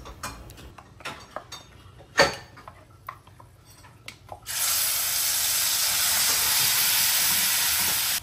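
A blended paste of spices and cashews goes into hot ghee with whole mace, peppercorns and cardamom. Scattered clinks of utensils come first, then a sudden, loud and continuous sizzle erupts and holds steady until the end.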